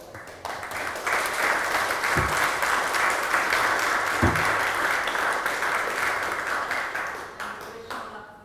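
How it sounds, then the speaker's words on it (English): An audience claps for author Christopher G. Moore, a long steady round of applause with a couple of sharp knocks, tapering off near the end. "let's give Christopher a big hand of applause"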